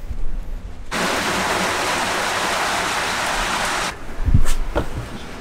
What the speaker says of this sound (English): it looks like it's raining